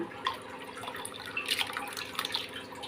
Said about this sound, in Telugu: నీళ్ళు మరగనిద్దాం మరుగుతున్నాయి ఎట్లా బుడగలుగుతాయి మసులుతున్నాయి నీళ్ళు